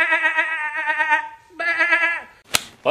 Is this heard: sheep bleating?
yes